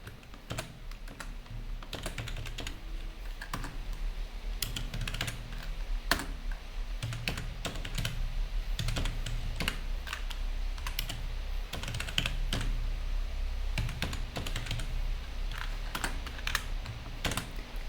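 Code being typed on a computer keyboard: close, irregular clicks of individual keystrokes in short bursts and pauses over a soft background hum, with no talking.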